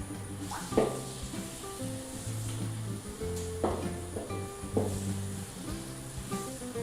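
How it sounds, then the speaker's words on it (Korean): Garlic fries in olive oil over medium heat in a large batch of military-style mass cooking, with a continuous close sizzle broken by occasional scraping stirs and light knocks of a utensil against the pan. "마늘을 넣어서 마늘 향이 올리브 오일에 충분히 배어나도록 볶습니다."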